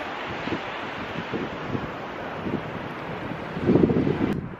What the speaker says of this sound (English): I don't even know if you're gonna be able to hear me because it's so windy